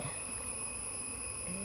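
Honey bees at a hive during a honey harvest, with smoke from a smoker in use, give a steady, continuous insect hum close by, with no voices over it.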